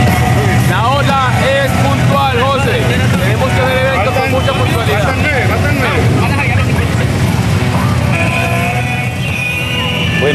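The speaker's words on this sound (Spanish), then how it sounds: "escuchen el ruido de los motores" Engines of a motorcycle caravan rumble loudly and continuously at Pereira Bike Week, a dense roar of many machines mixed with crowd babble and a voice talking over it throughout.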